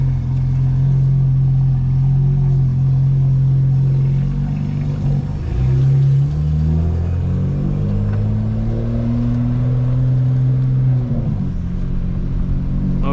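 A 2025 BMW M4 Competition xDrive engine droning loud and steady from inside the car while driving, its pitch sliding up and down through gear changes.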